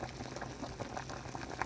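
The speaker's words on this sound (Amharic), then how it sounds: "መጀመሪያ የማደርገው ቀይ ስሬን ነው የምቀቅለው።" Beetroot boils in a pot of heavily salted water, giving a continuous bubbling, churning texture with soft pops throughout, fairly quiet and without talk.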